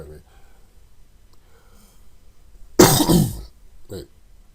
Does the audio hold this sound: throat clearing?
yes